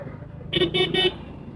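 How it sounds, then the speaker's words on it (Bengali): A vehicle horn sounds three quick, close, loud toots in a jammed Noakhali street, over a low rumble of idling traffic. "ওখানে জ্যাম লেগে আছে ট্রাফিক এখানে দাঁড়িয়ে আছে"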